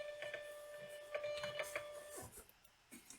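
A Rollo label printer prints a shipping label in short whirring bursts with rhythmic mechanical ticks nearby, followed by quieter handling noises.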